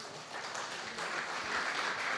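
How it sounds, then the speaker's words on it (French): An audience at a regional biodiversity conference in Nouvelle-Aquitaine applauds steadily and faintly, a soft continuous patter of clapping from across the hall with no voices on top. "Il m'applaudit toujours avant même que j'ai commencé."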